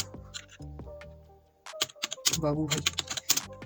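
Keys clatter on a computer keyboard as Python code is typed, a short irregular burst of clicks following a quiet stretch, with a voice heard at moments.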